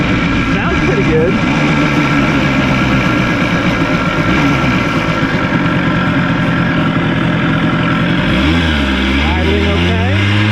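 A Harley motorcycle bought at a swap meet idles steadily with a loud, continuous low rumble, and the engine note shifts slightly near the end.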